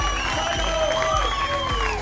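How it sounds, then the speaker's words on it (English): Spectators at a pro pickleball match cheer and clap in a steady, dense roar that holds at the same level throughout, with a few shouts rising above it. "Crowd here reacting."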